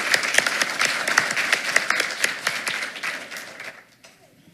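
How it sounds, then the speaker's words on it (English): A school board meeting audience applauds a student named Kennedy coming forward to receive an award, a lively burst of many individual claps that gradually thins and fades out near the end. "Let's give her a round of applause."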